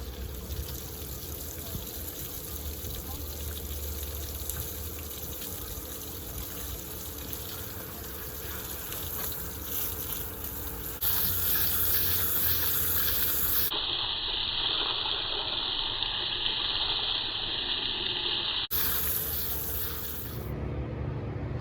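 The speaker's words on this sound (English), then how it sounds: "I'm just gonna turn on the hose, start rinsing it off" A garden hose sprays water to rinse a motor, a steady, close hissing gush that runs continuously and changes tone partway as the spray shifts.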